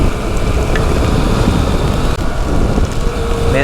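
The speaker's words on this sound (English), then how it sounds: "Man, you don't really get any cover from this rain, even with the trees." Heavy steady rain hisses through trees during a stormy motorcycle ride on a Yamaha XSR900 along the Tunnel of Trees, a dense continuous wash with wind noise and no pauses.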